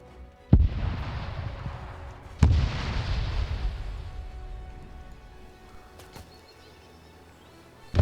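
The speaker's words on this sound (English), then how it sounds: "We're gonna go explore what that shooting is and what that gunfire is" Heavy booms from distant gunfire in a WW2 video game come alone, with two big reports a couple of seconds apart that roll and fade, then a few smaller cracks.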